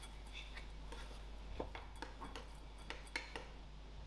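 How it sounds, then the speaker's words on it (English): A spoon mixes a pistachio and honey filling in a bowl, making faint, scattered clinks and taps over a low, steady background hum. "I'll give this a quick mix."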